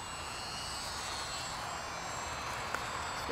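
A model airplane flying without a rudder drones overhead in a thin, steady buzzing whine that holds level throughout, fairly faint and distant.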